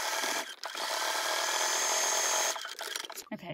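A sewing machine stitches a fabric opening closed on a small animal tunnel, running as a loud steady whir for about two and a half seconds before stopping, followed by brief handling noises.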